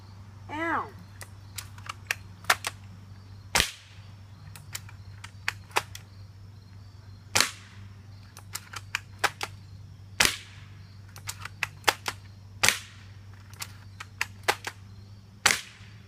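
Sharp cracks from a 6 mm airsoft sniper rifle firing into layered cardboard, seven or more distinct near, loud shots spaced irregularly over a steady low hum, with a few fainter clicks between them.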